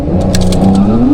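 A Porsche engine at full throttle pulling out of a cul-de-sac gives a loud, close, rising rev with a climbing engine tone throughout the short burst.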